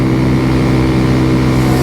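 Kawasaki Z125 Pro single-cylinder engine buzzes hard at high revs while cruising on the road, a loud, close, steady drone mixed with wind rush, no talking.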